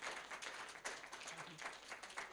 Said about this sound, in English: can we please all have a round of applause for Harris Qureshi for his final council as chair?